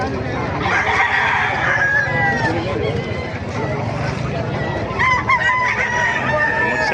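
Roosters crow repeatedly amid a noisy yard of gamecocks in Bocaue, Bulacan, several calls overlapping, with people talking underneath.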